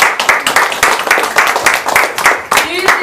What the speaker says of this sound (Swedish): Jag tycker de är värda en applåd.